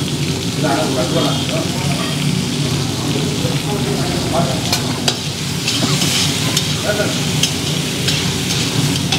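A jamun fruit mixture fries in a pan with a loud, dense sizzle and repeated stirring scrapes, while a voice talks intermittently over the cooking noise.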